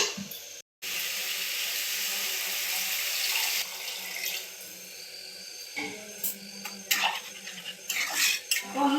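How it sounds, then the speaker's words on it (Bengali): Tap water pours steadily into a cooking pan of mixed vegetables, a continuous splashing rush with light clinks of a utensil near the end, close and fairly loud. "এখন আমি সবজিতে জল দেব।"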